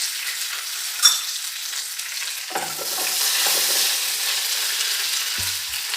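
Curry leaves and dry red chillies sizzle and spit in hot oil for an Indian dal tadka, a steady broadband frying hiss with a sharp crackle near the start and light stirring clatter, close and alone.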